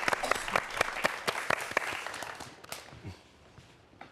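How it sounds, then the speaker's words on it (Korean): Audience applause greets a lecture speaker as a talk begins at a televised event, dense clapping that peaks early and then thins out and fades toward the end. "여러분 박수 한번 부탁드리겠습니다."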